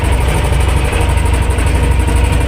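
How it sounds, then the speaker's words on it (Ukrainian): An old T-25 tractor engine chugging loudly and steadily at a low idle, a rough mechanical rumble with a rapid pulsing rhythm, no voices. "Тракторець доволі старенький."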